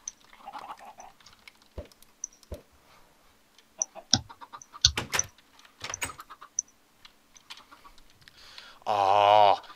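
Scattered soft clucks and pecking clicks from Minecraft chickens, ending with a louder squawk-like burst near the end.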